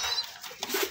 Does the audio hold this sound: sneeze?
no